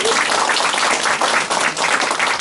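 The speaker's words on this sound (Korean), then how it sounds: "박수 한번 주세요." An audience at a Saturday lecture event bursts into applause, dense continuous clapping from many hands filling the whole short stretch at close range.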